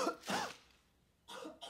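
Coughing from a character in the animated series Invincible: two short, raspy bursts, one at the start and another after a quiet pause, fairly close and with no talking over them.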